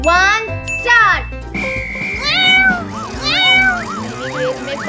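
Several cats meow repeatedly during a swimming race, the rising and falling cries overlapping with a voice and bright tinkling sounds.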